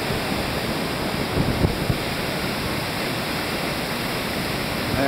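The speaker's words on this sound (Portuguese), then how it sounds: "Essa aqui sim é uma cachoeira de respeito." Large waterfall swollen after days of rain, a dense continuous roar of falling water, loud and close, steady throughout with only faint bumps of handling noise.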